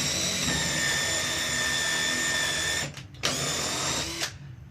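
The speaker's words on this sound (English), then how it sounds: "So I can just drill upwards." A power drill bores upward into wood with a steady high whine that cuts out briefly, restarts, then stops, close and alone.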